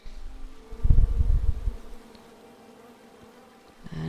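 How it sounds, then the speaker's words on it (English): Bees buzz in the video game King's Quest, a close swelling drone that lasts about a second and then fades to a quiet background hum. "Come at me, bees!"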